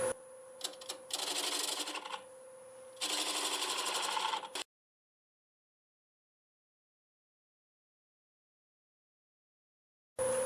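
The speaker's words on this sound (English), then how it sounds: "I'm going to start out with a 3/8 bowl gouge and remove the bulk of the material" A 3/8 bowl gouge cuts a black locust bowl on a lathe at about 700 RPM: two rough, scraping bursts of cutting over a steady motor hum, then abrupt silence for several seconds before the sound briefly returns.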